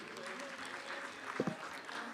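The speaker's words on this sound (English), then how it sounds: "One final round of applause for that session." Audience applause at an insurance sales conference, a dense, moderately loud clapping texture filling the whole stretch, with a couple of sharper bursts near the end.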